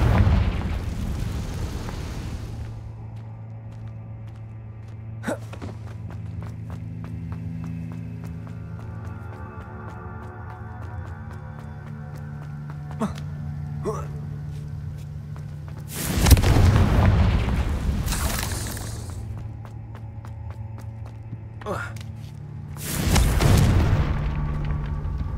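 Confringo fire spell from Hogwarts Legacy going off in two loud, broad explosive bursts about seven seconds apart, each preceded by scattered sharp cracks over a steady low hum of game ambience.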